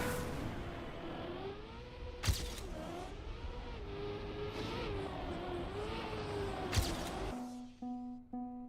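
A race car engine in a video game, boosted and revving at very high RPM. It wails steadily and loudly with wavering pitch and two sharp clicks, then cuts abruptly to a low idle hum with faint tones.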